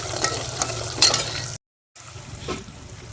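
Coconut milk cooking down in a kadai into homemade coconut oil gives a soft, bubbling sizzle with light stirring scrapes, cut by a brief silent gap before the frying resumes more quietly.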